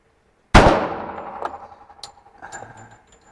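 A single loud crack from a Tisas .45 ACP pistol at close range, followed by a long ringing decay and a few fainter clanks and taps afterward.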